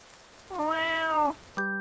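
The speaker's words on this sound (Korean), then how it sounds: "야옹" A house cat gives one clear, drawn-out meow at close range, followed by a short, bright tonal chime right after it ends.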